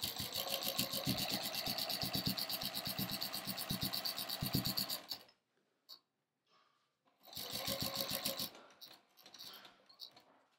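A domestic sewing machine stitches through a quilt in a rapid, steady mechanical chatter for about five seconds, stops, then runs again in a second shorter burst after a pause, fairly close and clear.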